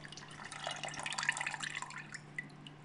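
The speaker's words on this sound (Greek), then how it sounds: "Και ρίχνω το χυμό τους σε ένα μεγάλο τάπερ με νερό." Lemon juice trickles and splashes steadily into a large plastic container of water for a few seconds, a close, moderately quiet pouring sound with small drips.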